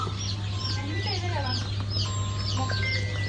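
Native brooding hens cluck in short, repeated bursts close by, with scattered high chirps over a steady low hum and faint voices in the background.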